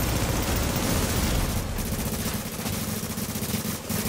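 Gunfire in The Division video game, a dense, continuous clatter of automatic shots with a couple of brief gaps, loud and busy throughout.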